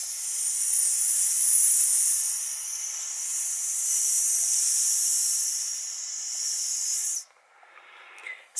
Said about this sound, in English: So now you have hairspray on your face, okay?